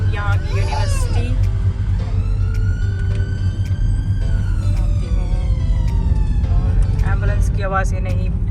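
An ambulance siren wails and sweeps up and down as it passes close by on a street in Wolverhampton, near the university, loud over traffic noise, with a few brief voices at the start and end.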